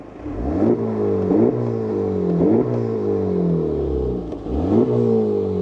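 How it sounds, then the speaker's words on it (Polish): A 2022 Honda Civic Type R engine revs up and drops back several times in a row, each blip rising in pitch, close and fairly loud with a whooshing intake note. "Jak tutaj słychać dolot."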